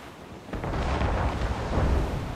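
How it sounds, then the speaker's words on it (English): Booms and explosions from a naval battle in the video game Assassin's Creed Rogue. A deep, sustained rumbling blast swells in about half a second in and keeps roaring loudly to the end. "there's certainly booms and explosions going on."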